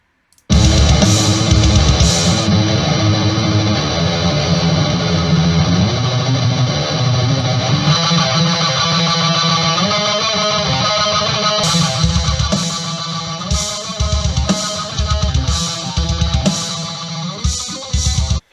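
A heavily distorted electric guitar through a Friedman amp simulator in Ableton Live plays chugging metal riffs continuously, with rhythmic stops and palm-muted stabs toward the end; no voices.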